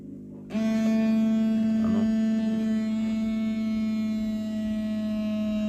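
A small homemade aquarium air compressor switches on abruptly and keeps running with a steady, loud electric buzzing hum and a strong tonal drone that persists to the end.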